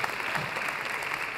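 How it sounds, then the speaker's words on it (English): A church congregation claps together in a brief burst of dense, steady applause, heard up close with no voices over it. "Yeah, get some clapping going."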